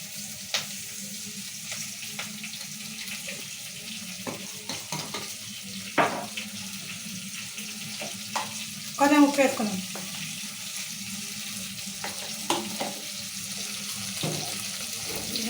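Chillies, tomatoes, turmeric and salt fry softly in a pan for puntikura pachadi, with low sizzling, occasional stirring clatter and a brief scraping burst midway.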